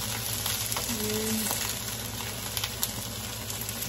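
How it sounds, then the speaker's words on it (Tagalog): Tuna and eggplant sautéing in a hot pan for tuna paksiw with coconut milk, giving a steady close sizzle and frying crackle with a few light clicks, no talk. "Nagigisa ko muna yun siya"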